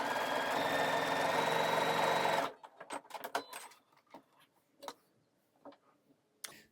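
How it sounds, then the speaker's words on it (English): A sewing machine overstitches a pocket bag to the seam allowance, running in a fast steady mechanical whir for about two seconds, then stopping, followed by scattered soft clicks and handling taps of fabric. "I'm just going to overstitch the pocket bag to the seam allowance just to pull the pocket inside the pocket"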